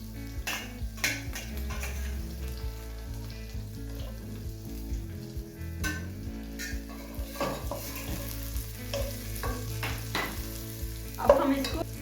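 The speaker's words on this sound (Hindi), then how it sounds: "अब हम इसको फ्राई कर लेते हैं।" Almonds and dates frying in ghee for sheer korma, giving a steady close sizzle broken by repeated scraping and clinking of a spoon against the pan, with no talk.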